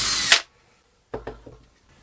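A power drill fitted with a Forstner bit cuts into wood for a 25 mm hole in a short loud whirring burst that stops abruptly. Quieter clicks and knocks follow after a pause.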